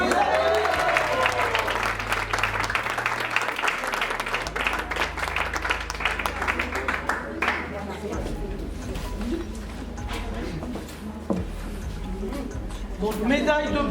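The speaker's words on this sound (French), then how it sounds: "On peut les applaudir." A crowd claps steadily throughout at a cooking competition award, with a voice speaking over the applause in the first half.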